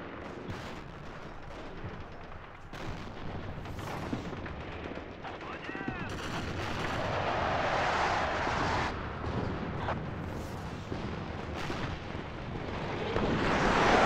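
A 203 mm howitzer fires in a video game battle, heavy rumbling blasts and rolling booms mixed with scattered distant gunfire, building toward a louder roar near the end, with voices talking in the background.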